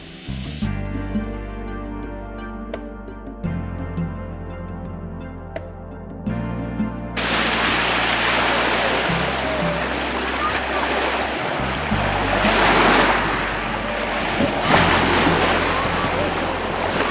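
Waves washing onto the shore at Van's Beach in Leland, Michigan, a steady broad rush mixed with wind that starts after several seconds of tonal music and continues loud to the end.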